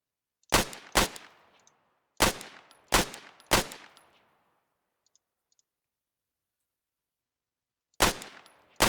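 Video game shooter gunfire cracks out in sharp, loud single shots: two quick ones, a rapid trio, a long pause, then two more, each with a short ringing tail and no talk.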